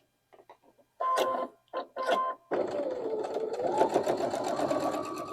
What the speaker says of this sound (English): All right, let's go to the sewing machine.